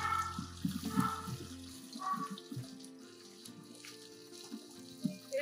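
Brown tea-stained water is poured through a strainer into a sink, a soft, uneven splashing and trickling that rises and fades over a few seconds, fairly faint and close by.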